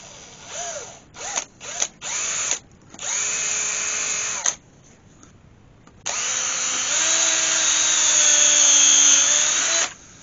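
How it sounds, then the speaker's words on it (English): A power drill whirs in several short bursts into a piece of beech wood, then runs steadily for a few seconds and finally in one long continuous burst, close up. "First thing I'm going to do is just drill a couple of eyes in there."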